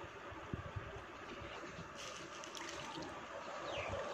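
A household air cooler motor running while submerged in a container of water, a steady close churning, bubbling water noise with a faint underlying hum, fairly quiet and unbroken throughout, with no talking.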